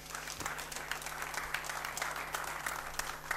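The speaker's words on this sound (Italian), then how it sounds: "E qui lo accogliamo con un grossissimo applauso" A crowd at a sports awards ceremony applauds an award winner with steady, dense clapping that holds at a fairly even level throughout, with a faint low hum underneath.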